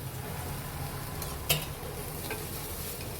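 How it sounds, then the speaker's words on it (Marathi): A large, vertically sliced onion with a little salt roasts in a pan, giving a low, steady sizzle throughout, with one sharp clink of a stirring utensil partway through. "मी कांदा भाजून घेत आहे."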